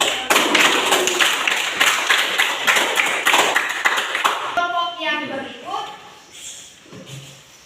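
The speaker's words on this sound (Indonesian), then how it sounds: "tepuk tangan sekali lagi" A classroom audience claps after a group presentation, a loud burst of many hands that runs for several seconds before fading out as a voice begins speaking.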